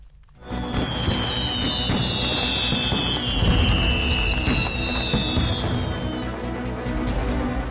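Dense, continuous crackle of Diwali firecrackers bursting in rapid succession in Delhi, with a high whistling streak overhead and a steady roar of pops underneath.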